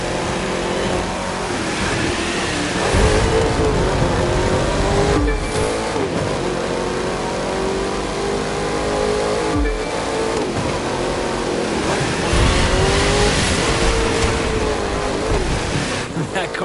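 In The Crew 2, a sleeper car in a race accelerates hard. Its engine roars steadily throughout, with the pitch climbing and falling through gear changes and surging louder near the end.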